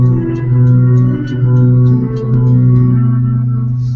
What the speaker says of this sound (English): This is a Chapman stick, which is out there, is made by somebody else, but we use it a little differently.